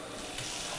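A kitchen sink tap runs in a two-room apartment, a steady broadband hiss of water falling into the basin, close and continuous for under a second with no voices.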